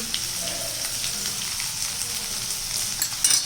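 Ground spices, garam masala and black pepper among them, sizzle steadily in a hot pan as they are stirred for a Bengali banana-flower dish, with a constant crackling hiss and a few small scraping clicks near the end.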